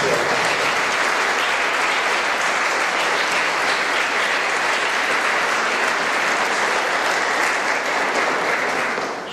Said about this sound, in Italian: Allora voi mi consentirete di chiedervi un applauso per queste 70 persone.